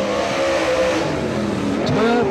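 A P4 GRT Monte Carlo race car at a speedway during qualifying, engine roaring as it passes with a rising and shifting pitch under a commentator's voice.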